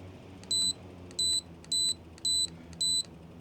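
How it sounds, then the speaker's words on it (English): Five short high-pitched electronic beeps from a 20-inch ceiling fan repeat at an even pace over a soft background hum, clear and moderately loud. "That is the audible sound of a high-pitched beep."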